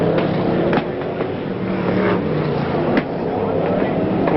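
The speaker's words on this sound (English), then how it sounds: "some remarkable footage there as those cars all pile into the fence" BriSCA Formula 1 stock cars racing at Northampton in 1985, engines roaring in a steady dense wall of noise with a couple of sharper bangs, while a commentator talks over the action.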